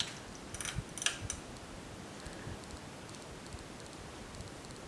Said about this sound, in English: And finally for low, which I'll show with both the fan and light on